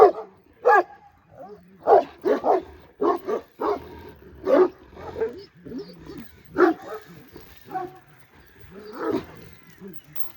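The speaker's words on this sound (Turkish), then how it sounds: "Köpek sesi geldi" Several dogs barking repeatedly in uneven bursts, fairly close, with overlapping yaps and a few deeper barks over a quiet background.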